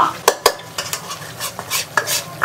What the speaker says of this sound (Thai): เราก็ต้องเคี่ยวมันอย่างนี้แหละให้มัน ไฟอ่อนๆอ่ะ แล้วก็คนคนมันไปเรื่อย ๆ